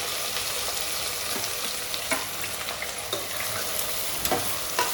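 Chopped onions frying in hot oil with whole spices for an Odia mutton curry, a steady close crackling sizzle with occasional sharper pops and stirring scrapes, no talking.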